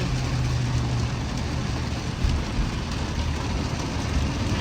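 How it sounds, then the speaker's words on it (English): Rain falling on a river during a castnet fishing trip in a tracker boat on the St Johns River, Guyana: a steady, close broadband hiss with a low engine-like hum underneath, constant throughout with no talking. "No, now maybe with the rain."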